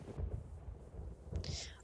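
Thunder from a stormy sky in the horse-riding video game Star Stable during its Halloween event, heard as two deep, booming rumbles with a brighter crackle on the second, fairly loud and close.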